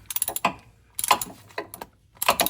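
A hand wrench ratchets in quick clicking bursts while tightening the front differential fill plug on a 2021 or newer GMC Yukon, with loud, close clatter in three or four spurts separated by short pauses.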